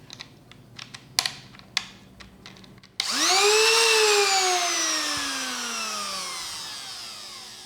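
Cheap MOL cordless trimmer with a nearly dead battery, heard after a few sharp clicks and taps, then spinning up to a loud whine that slowly sags in pitch and fades as the motor weakens.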